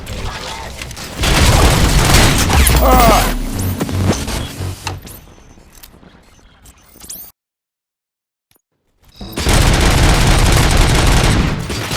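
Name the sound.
gunfire in video game RoboCop Rogue City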